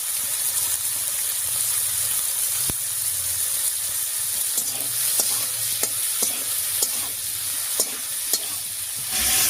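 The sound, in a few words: prawns frying with turmeric and salt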